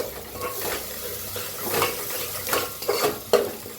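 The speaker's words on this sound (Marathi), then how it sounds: "छान असं भाजून घेऊया" Masala for misal pav roasting in oil, stirred with a spoon that scrapes and taps the pan every half second or so over a soft, close sizzle, with no voices.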